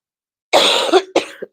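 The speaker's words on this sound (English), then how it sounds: "Sorry for the coughing." A person coughing at close range: one long, harsh cough followed by a shorter second cough, loud and on its own against silence.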